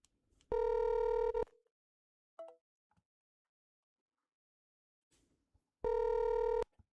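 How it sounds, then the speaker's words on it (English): A telephone call rings twice with loud, sustained electronic tones, each lasting just under a second and separated by a long quiet gap broken only by faint clicks. "let's go ahead and get Coach Teasley on the phone here"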